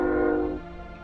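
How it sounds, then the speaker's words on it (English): A train horn in the game Crusader Kings II sounds as a single sustained, rich horn blast that fades partway through a brief moment. "That was a train."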